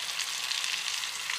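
Spinach (palak) frying in a pan gives a steady, close hiss of sizzling oil, with a sharper burst right at the end as more leaves drop in.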